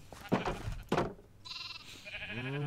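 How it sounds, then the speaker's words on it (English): Sheep bleating in the Minecraft video game, a few separate short bleats with harmonic wavering tones, fairly close and clear with no talk over them. "those little grey sheep"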